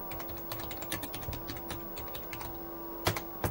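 Fingers type on a computer keyboard at the engineer's console of a Quantel Paintbox, a close, irregular patter of clicky keystrokes over a low steady hum, with a couple of sharper presses near the end.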